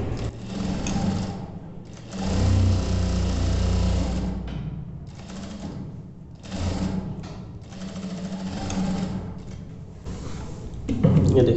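A sewing machine stitching a trouser fly runs in several bursts of fast, steady mechanical whirring and clatter, separated by short pauses, close and fairly loud.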